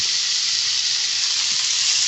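Grated apple cooks with semolina in ghee in a pan over a medium-low flame, giving a steady, loud, close sizzling hiss that stays constant throughout.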